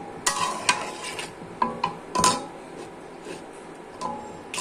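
Pan of food seasoned with five-spice powder and garam masala is stirred on a stove, with several sharp scraping clicks and a soft sizzle in between, close and moderately quiet.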